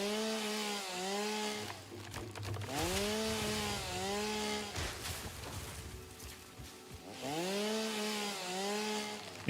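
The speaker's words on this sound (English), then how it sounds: "I think the trees are building up resistance to chainsaw." A chainsaw from the video game Satisfactory cuts through trees, its engine revving in rising and falling harmonic sweeps with bursts of cutting noise between, loud and continuous with no talk.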